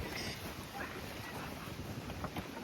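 Cold wind blowing across Sukhna Lake in Chandigarh, a steady broadband rush with buffeting microphone noise throughout, no voices.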